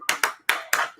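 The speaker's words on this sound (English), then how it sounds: "clap with me." Four loud, sharp hand claps in a slow, even rhythm, close by, as people clap along to music at a business meeting.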